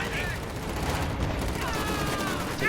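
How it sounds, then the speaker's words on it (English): Strafing run in a WWII strategy video game, a continuous dense rattle of rapid gunfire with a few faint whistling tones rising over the barrage. "The strafing run continues."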